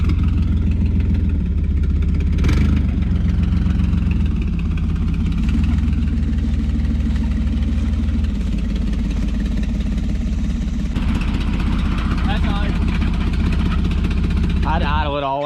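An old Toyota Land Cruiser FJ62 engine idles steadily with a low, even rumble close by, while people talk over it throughout.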